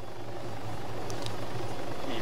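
Helicopter engine in the video game Arma 3, a steady low droning hum at moderate level, with faint speech-like sounds over it.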